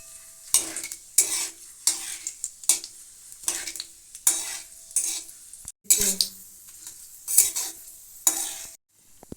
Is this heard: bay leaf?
yes